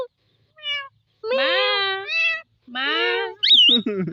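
A parrot mimics a cat's meow several times, producing drawn-out, whiny meows with pauses between them, close and clear.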